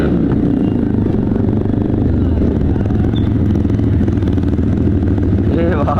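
A motorcycle ridden along a road on a Valentine's Day bike outing, its engine loud, close and steady throughout with a continuous low rumble, and a voice faintly audible near the end.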